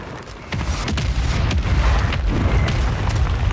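Grenade blasts in the video game Call of Duty Warzone land as a run of heavy, deep booms and sharp cracking bursts, loud and near, rumbling one after another with no talking.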